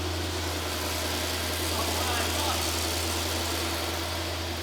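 Mercedes GT63s AMG bought at auction idling steadily just after its first start, a constant low rumble held close and loud throughout, with voices talking over it.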